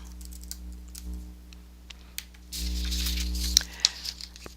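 Quick bursts of keystrokes on a computer keyboard, close and clear, entering a course name into a search field, with short pauses between clusters of taps and a denser flurry near the end.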